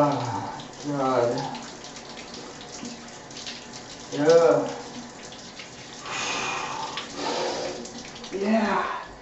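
A cold shower runs with a steady hiss of water throughout while a person talks intermittently over it.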